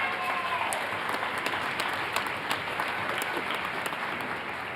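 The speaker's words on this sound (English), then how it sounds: "So give him another big round of applause." An audience at a 2013 school spring band concert claps in a steady, dense wash of applause that holds at an even level throughout, with scattered sharper claps standing out.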